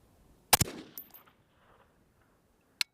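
A 22 Dasher PC rifle on a 14.5-inch short barrel fires an 80gr Berger VLD round: one sharp, loud crack with a brief echo, a faint distant impact ring on rock, then a short metallic click.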